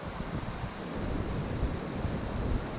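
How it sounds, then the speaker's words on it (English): A mountain creek in full flow near a swing bridge on a hike rushes as a steady, broad wash of water noise, loud and continuous, with some wind buffeting the microphone. "these creeks look more like rivers to me since they're flowing so good"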